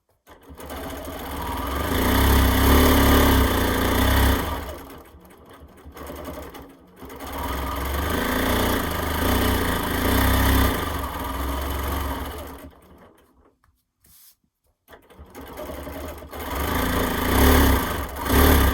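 A sewing machine quilts through batting on an alligator quilt outdoors, running in long steady rattling stretches that slow and stop a few times before starting up again, close and loud.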